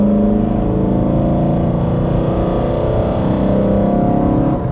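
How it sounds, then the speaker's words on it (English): A BMW E92 M3 with a freshly rebuilt engine runs loud and close with a deep, throaty, steady drone and slight rises in pitch, without any talk. "157 kilometers, and the engine still sounds wonderful."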